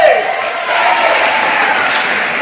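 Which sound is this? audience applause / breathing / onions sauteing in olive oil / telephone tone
audience applause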